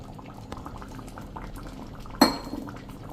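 A spoon stirs turmeric dissolved in water into bubbling pearl millet and moong dal khichdi in a pot, with soft simmering and light scraping and one sharp metallic clink near the end.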